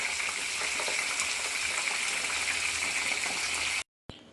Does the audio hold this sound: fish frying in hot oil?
yes